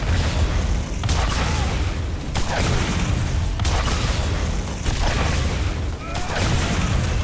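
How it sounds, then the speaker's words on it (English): Dense, booming rocket explosions from Borderlands, a loud continuous barrage with repeated heavy blasts about every second over a constant roar. "I'm just gonna keep shooting rockets at you"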